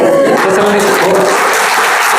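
A burst of clapping from an audience at a talk on parenting, close and loud, a dense steady wash of applause lasting a couple of seconds.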